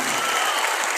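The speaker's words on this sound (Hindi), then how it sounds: "एक बार जोरदार तालियां हो जाए मेरे टीम सिस्टम के लिए" Audience applause at a team gathering in Delhi, a steady dense wash of many hands clapping together, loud and close, running unbroken through the moment.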